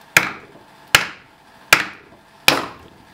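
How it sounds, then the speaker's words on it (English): A hammer striking a block of wood to knock a bearing loose from the top plate of a Lyrec SM motor, four sharp evenly spaced woody knocks, each with a brief ringing tail, loud and close with no talking. "So if we use a piece of wood and a hammer"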